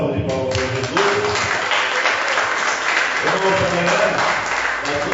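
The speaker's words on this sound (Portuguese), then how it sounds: "Vamos dar uma salva de palmas para Jesus." A church congregation at a Brazilian family service clapping together, a sustained, dense round of applause filling the room while someone talks and sings over it.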